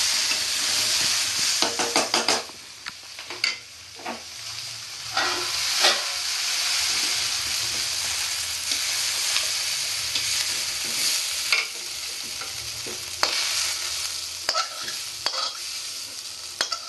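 A fried lentil mixture is stirred into Bengali-style khichuri in a pot, with loud continuous sizzling and hissing steam broken by sharp scraping stirs.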